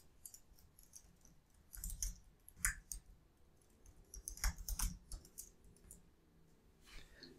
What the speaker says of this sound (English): So I'm going to type my login credentials here.